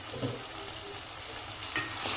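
Aloo kurma masala with a little jaggery stirred in a hot pan, a steady close sizzle of frying with scraping spoon strokes throughout, no talking.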